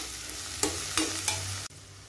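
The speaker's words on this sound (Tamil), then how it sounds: "வெங்காயம் நல்லா ஒரு கோல்டன் ப்ரௌன் வர வரைக்கும் நல்லா வதக்கி விட்டுக்கலாம்." Onions sautéing until golden brown in oil, a steady sizzle broken by three quick spoon strokes against the pan, close and clear, then cutting off abruptly.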